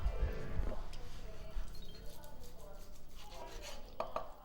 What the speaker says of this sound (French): Maintenant, on va couper la viande.